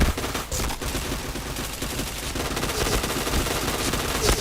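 Video game gunfire, rapid automatic bursts rattling continuously and loud throughout, dense and close with no pauses.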